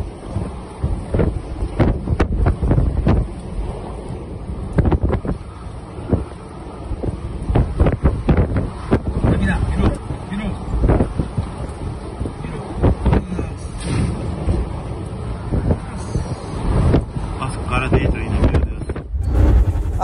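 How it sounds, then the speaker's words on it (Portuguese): Storm wind gusting at about 157 km/h, a loud continuous roar with buffeting against the microphone, sustained and close throughout. "a velocidade do vento na estação meteorológica da cidade chegou a 157 km por hora"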